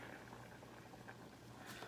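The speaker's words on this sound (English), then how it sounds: "Okay, so I'm gonna say that's boiling." Water boils in a pot on a kitchen stove, a steady faint bubbling and hissing wash that continues evenly throughout with no voices.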